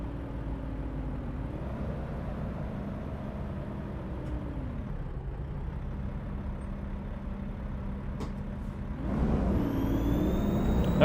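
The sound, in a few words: truck engine revs climbing on the throttle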